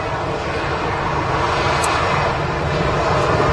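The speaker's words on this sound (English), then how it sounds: "On the taxi out here, we have the ex-celebrity Cliff, the Jet2 A330, one of 3." A Jet2 Airbus A330 taxis out at Manchester Airport, heard as a close, loud and constant engine rumble with no breaks.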